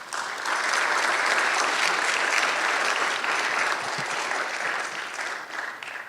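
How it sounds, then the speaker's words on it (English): Audience applause at a 20th anniversary event for a Washington internship program for Native students: sustained, loud clapping from a full room that holds steady for several seconds, then tapers slightly, with no talk over it. "please let us give a round of applause to President Kerwin"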